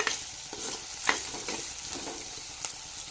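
Tomatoes being stirred and fried in a pan, a soft, close sizzle broken by light scraping strokes of the stirring, with no talking.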